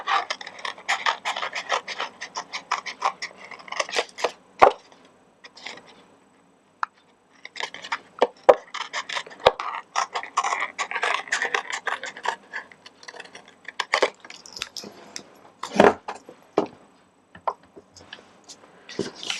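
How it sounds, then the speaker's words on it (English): Snips cutting card stock along a curve for a guitar-shaped greeting card: crisp, close snipping clicks and papery rasps come in quick bursts separated by short quiet gaps. "I'm now just going to take my snips, and I'm just carefully going to cut along that curve"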